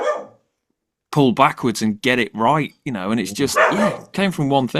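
A dog barks indoors in short bursts while several people keep talking over it through most of the stretch.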